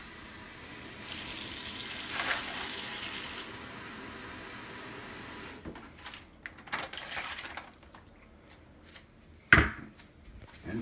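Water runs from a tap in a steady soft stream for a few seconds, then stops; afterward come scattered quiet kitchen clatters and one sharp knock, while making jerky marinade.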